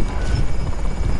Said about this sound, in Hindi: अरे हेलीकॉप्टर बुलाई थी अब वो भी चली गई।